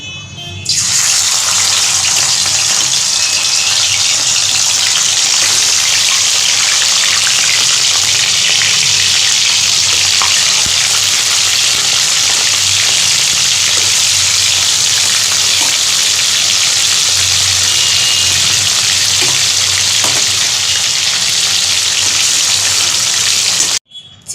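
Loud, steady sizzling and crackling of marinated chicken frying in hot oil, continuous and close, with no talking.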